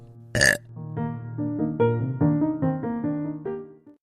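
A single loud burp opens a podcast intro, followed by a long, warbling voiced belch with a stuttering, rising and falling pitch that lasts several seconds before trailing off.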